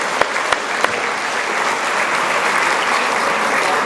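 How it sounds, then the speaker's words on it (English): Applause from an audience at a 40th anniversary celebration honoring 35-year award participants, a steady dense wash of clapping that holds evenly throughout with a few sharp claps standing out at the start. "There needs to be another round of applause for those 35-year"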